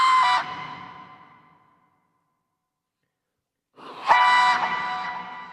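A death whistle run through a harmonizer gives two shrill, layered tonal blasts: a first that trails off slowly, then after a silent gap a second, louder one that holds steady.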